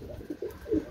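Pakistani Teddy pigeons in a loft coo in soft, low, rounded bursts, three or four close calls in a second with faint background noise.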